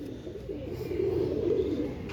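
Imam Deen breed pigeon cooing in a low, continuous rolling murmur, steady and fairly close, with no talk over it.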